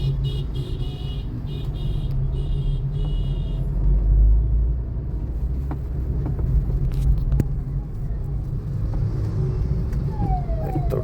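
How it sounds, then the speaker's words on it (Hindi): Road traffic surrounds a moving XL6 CNG car near Agra's Red Fort area, heard as a steady low engine and road rumble from inside the cabin, with scattered passing vehicles and a couple of faint horn toots. "तो ट्रैफिक में बड़ा मुश्किल होती है गाड़ी चलाने में।"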